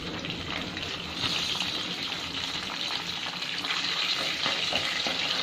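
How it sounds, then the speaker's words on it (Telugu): Whole garam masala sizzling in hot oil in a pan while making kaju paneer, a steady bright hiss that stays even throughout with faint crackles and no voices. "ఇప్పుడు ఆయిల్ వేడైన తర్వాత హోల్ గరం మసాలా వేసుకోవాలండి"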